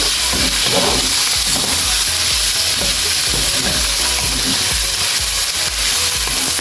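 Meat for Bicol Express sizzles and fries steadily in a hot pan while being stirred, a loud continuous hiss with occasional scraping, no talking.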